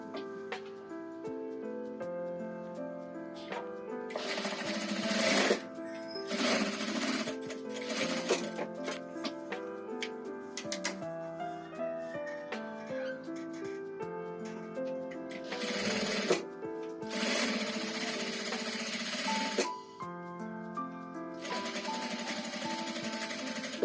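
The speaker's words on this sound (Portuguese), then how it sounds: "vou passar uma costurinha aqui, ó, um pezinho de máquina em todinho essa bordinha aqui" A sewing machine runs a finishing stitch along the edges of a patchwork fabric-scrap trash bin, in several loud, fast-whirring bursts of a few seconds each over steady background music.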